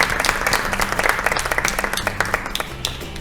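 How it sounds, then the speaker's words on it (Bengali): Studio audience on a Bengali family game show claps loudly for a guest, a quick run of sharp close hand-claps that forms a busy, even rhythm for a few seconds. "সবাই জোরে একবার হাততালি দিয়ে দাও।"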